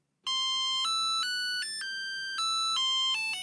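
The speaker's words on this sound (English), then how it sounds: "you'll hopefully hear that tone play." A Sonoff NSPanel smart touch panel plays an electronic ringtone, a loud sequence of pure beeping tones stepping up and down in pitch, clear and alone for about three seconds.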